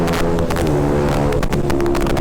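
A KTM Duke motorcycle fitted with an aftermarket open pipe exhaust gives a loud, rough, continuous engine drone with choppy pulsing, heard close up in traffic.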